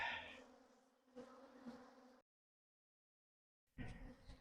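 Honey bees buzz in front of a hive during a fall harvest as frames are shaken, a close, dense drone that drops out briefly and then returns.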